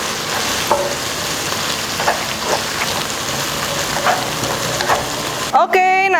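Kaffir lime, turmeric and pandan leaves frying in hot oil, a steady loud sizzle with a few scraping stir strokes, ending in a brief burst of unrelated tonal sound.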